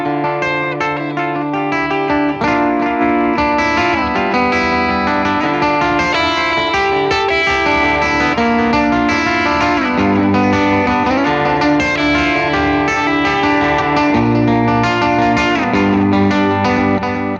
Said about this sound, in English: What I'm demonstrating is that when I play, you can't actually hear the echo going behind it.